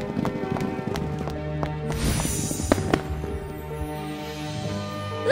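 Horses gallop in a race organised by a prince, their clip-clop hooves beating rapidly and fairly close over a steady musical backing, with one sharper crash partway through.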